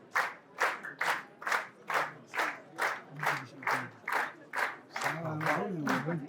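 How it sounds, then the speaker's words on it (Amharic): An audience at an Ethiopian movie premiere for the film Alazar claps in slow unison, about a dozen loud beats in steady rhythm, with a voice talking over the last beats. "ገና ነው አጨብጭቡላቸው"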